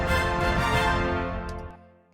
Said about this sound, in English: you kill the king, and then boom, you get a little victory fanfare as such